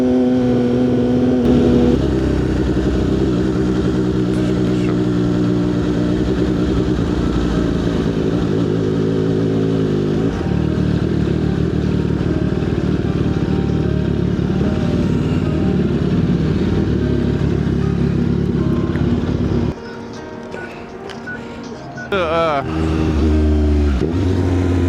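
Motorcycle engine droning steadily on a ride, loud and close with shifting pitch as it revs, a brief drop near the end before the engine picks back up, with someone talking over it.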